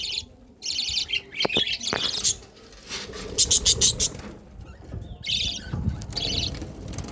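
Several pairs of colony birds, including new adults, chirp and tweet in bright overlapping bursts, with short squawky calls and a dense flurry of quick calls mid-clip, fairly close over faint rustling and pattering.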